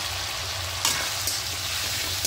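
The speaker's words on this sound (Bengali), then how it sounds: "আলুটা দিয়ে এবার একটু মশলাটা ভালো করে কষিয়ে নেবো" Sliced potatoes and spices sizzling in a hot pan with a steady fry, stirred with a couple of sharper scraping strokes, close and alone.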